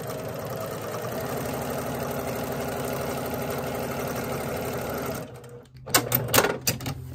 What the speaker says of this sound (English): I'm just going to go ahead and use my presser foot as a guide for sewing that second line